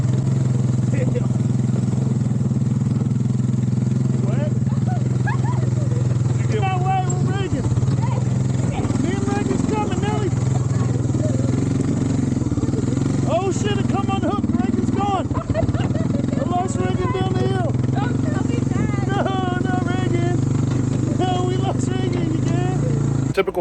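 A Honda FourTrax ATV engine drones loud and steady as it pushes through deep terrain, its revs rising and falling throughout while people talk over it.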